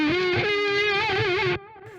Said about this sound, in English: my head voice and then distort it through a guitar amplifier